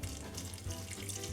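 A hot milk mixture pours into butter for a gingerbread cake, a steady close liquid trickle running continuously with no talking.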